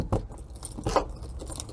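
A bunch of keys jangles in short metallic bursts, two louder shakes close by, used to open the storage area of a New Zealand 4-berth Beach Rest motorhome.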